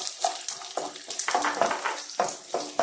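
Small pieces of chopped coconut frying in ghee, a steady close sizzle with repeated crackling bursts and soft stirring scrapes throughout, no voices.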